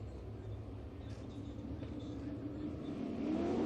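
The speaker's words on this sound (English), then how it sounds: "So Corey Turner ready to ignite the 8-car field." Sprint car engines rumble and begin to build at the start of a dirt track race at Ashwaubenon Speedway, a steady low roar swelling louder toward the end.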